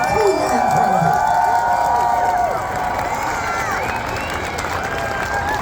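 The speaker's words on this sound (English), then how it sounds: "Give yourselves a round of applause." A crowd of people cheers and shouts with scattered clapping after a solar eclipse, a loud, steady wash of voices and whoops close by that lasts the whole stretch without a break.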